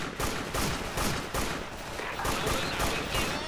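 Sustained rapid gunfire from an FN rifle in a video game, a dense continuous burst of shots repeating through the whole stretch, loud and close with no talk over it.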